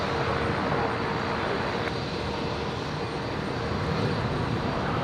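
A Qantas airliner departs runway 01 right at Brisbane Airport, bound for Melbourne, heard as a steady, distant broadband engine roar throughout.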